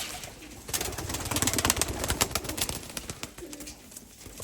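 Pigeons kept in a home cage coo softly and intermittently amid rustling and fluttering, fairly close, with no talk over them.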